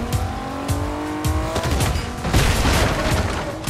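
A car driving in Fortnite, a steady engine drone with rising pitch under scattered impacts and bangs, close and loud throughout.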